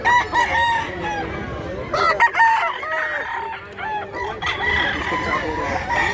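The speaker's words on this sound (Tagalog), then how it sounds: "Daming manok." Several chickens cluck and crow close by, overlapping calls including a rooster's crow, with a busy flock sound throughout.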